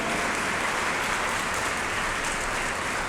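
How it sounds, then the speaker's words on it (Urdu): Congregation applauding during a Sunday Mass homily, a full, even roar of clapping, loud and sustained from start to finish, with no voices over it. "اپنے لیے زوردار تالی بجائیں"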